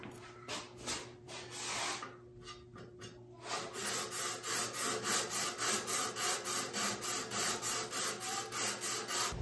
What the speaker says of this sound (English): I finished sanding with my 220 grits